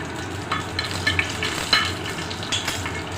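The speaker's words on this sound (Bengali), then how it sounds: "রসুনটা একটু ভাজবো।" Chopped and whole garlic fry in hot oil, a close, steady sizzle with scattered stirring scrapes and small clinks from a spoon against the pan.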